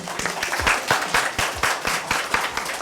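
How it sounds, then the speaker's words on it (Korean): Audience at a panel discussion on insecure labour among older non-regular workers claps to close the session, steady dense applause with distinct louder claps standing out close by. "우리 여러분들 각자를 위해서 박수로 마무리하도록 하겠습니다"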